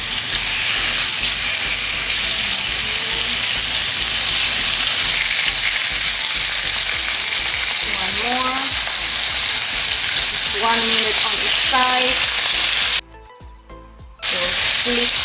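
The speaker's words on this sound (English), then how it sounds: "Since we are making our steaks indoors, we'll be searing them instead of grilling." Steaks searing in a hot pan on an indoor stove give a loud, steady sizzle and frying hiss throughout, with a few short scraping or tonal clinks near the end and a sudden brief drop in level.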